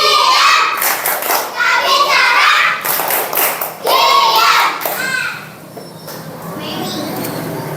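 Schoolchildren in a classroom chant and clap in rhythmic bursts together, loud and close, before the room settles into quieter murmuring.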